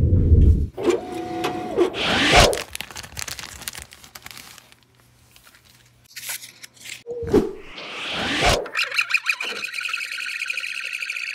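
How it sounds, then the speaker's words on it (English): A lens-cutting machine shapes Spy Cyrus prescription sunglasses lenses, giving bursts of whirring, grinding and crackling with a quieter lull in the middle, then a steady mechanical hum and rattle, with no voices. "Today we're going to cut some Spy Cyrus prescription sunglasses."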